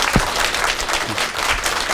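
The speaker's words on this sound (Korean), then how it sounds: "큰 박수 보내주시기 바랍니다" An audience at a televised lecture on startups claps together, a dense, steady burst of applause filling the room at close range, with no voices rising above it.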